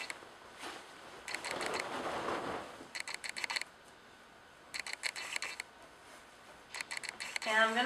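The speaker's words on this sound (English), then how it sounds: "just go to town with your fabric scissors" Fabric scissors snip through cloth while a clutch purse is cut down from a larger piece, giving crisp bursts of quick close chopping clicks in several separate runs, with soft handling noise between them.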